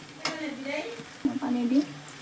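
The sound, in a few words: frying and stirring food in a pan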